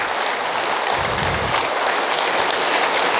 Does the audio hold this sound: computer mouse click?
no